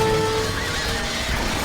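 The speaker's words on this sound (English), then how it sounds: "Ethan's got horses still over here" Horses whinny in a strategy video game, a loud neigh up front over steady battle noise and faint hoof clatter, with no talking.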